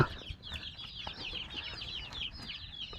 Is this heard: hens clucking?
yes